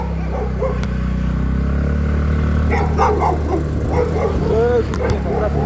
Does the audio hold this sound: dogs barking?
yes